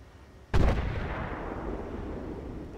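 A tank cannon fires in the Armored Warfare video game: one heavy, close blast that booms and then rumbles away for a couple of seconds, with no talk over it.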